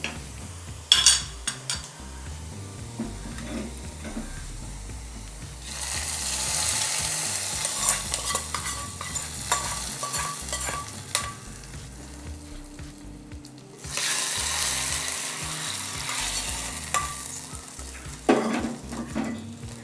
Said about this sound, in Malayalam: ഇപ്പോൾ ഉള്ളി മൂക്കാൻ തുടങ്ങിയിട്ടുണ്ട്.